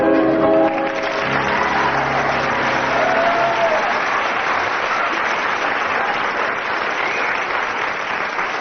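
Loud applause from a radio comedy panel show audience fills the clip, steady and dense from start to finish after a brief musical ending at the very start.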